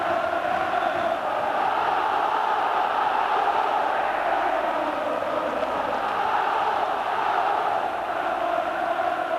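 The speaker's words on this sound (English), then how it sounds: "And now we can hear the Ibrox crowd" Football crowd at Ibrox Stadium during the 1988 Rangers v Steaua Bucharest match, a steady, distant roar of massed voices that holds evenly throughout with no distinct words.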